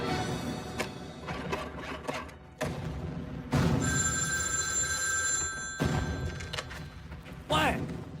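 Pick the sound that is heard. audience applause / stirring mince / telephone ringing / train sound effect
telephone ringing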